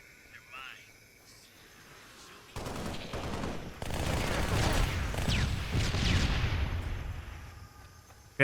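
Dual-wielded SMGs firing in Halo: Spartan Assault: after a quieter opening, dense rapid gunfire starts and builds into sustained automatic bursts mixed with battle noise, loud and continuous to the end.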